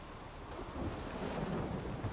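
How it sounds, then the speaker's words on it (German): Thunderstorm in The Witcher 3: a steady broadband rumble of rain and rolling thunder that swells slightly after the first moment and holds, continuous with no voices. "Ein Sturm, verdammt."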